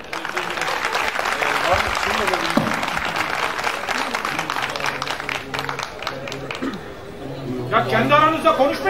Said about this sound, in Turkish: Alkış istiyorsunuz.